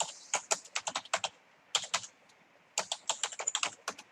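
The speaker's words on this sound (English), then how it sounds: "I can hear you typing." Typing on a computer keyboard during a live online chat: quick bursts of close, crisp key clicks in uneven clusters, separated by short pauses, with no talking.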